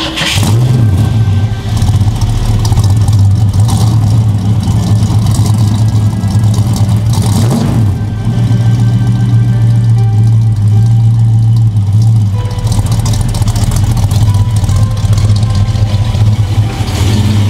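A 1965 Ford Falcon Futura with a 289 V8 runs steadily, a loud, close engine drone holding an even low rumble throughout with slight swells.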